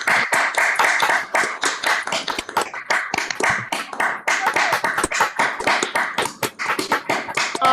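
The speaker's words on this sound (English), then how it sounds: "I want you to applaud like you're giving a standing ovation" An audience at a performance workshop bursts into vigorous, ovation-style clapping, a loud, busy patter of many close hands with irregular sharp slaps, sustained for several seconds with no talking.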